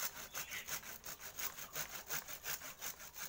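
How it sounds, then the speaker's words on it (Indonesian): A hand saw cuts through a thin mulberry branch being prepared as a cutting, making steady rhythmic rasping strokes, about a dozen back-and-forth pulls, close and clear with no talking. "Ini saya pakai gergaji"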